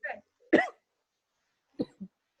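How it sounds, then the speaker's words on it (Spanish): Someone coughing on an online video call, a few short harsh bursts spaced apart, close to the microphone against near silence. "¿Quién tose?"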